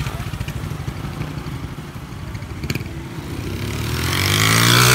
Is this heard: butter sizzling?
no